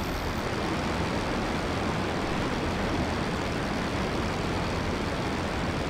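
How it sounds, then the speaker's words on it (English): Steady broadband engine drone of WWI aircraft in the Rise of Flight flight game, a continuous loud roar filling the whole clip with no breaks. "That would explain why I was able to hear engines."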